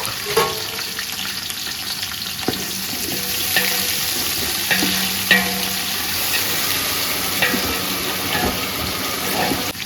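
Onions and whole uncut chillies fry in a pan for chicken dum biryani, a loud continuous sizzle with scattered scraping clicks as they are stirred, and no one talking.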